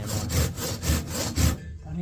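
A hand saw cuts through wood during house roofing work, with four or five rhythmic back-and-forth strokes, close and fairly loud, then stopping abruptly.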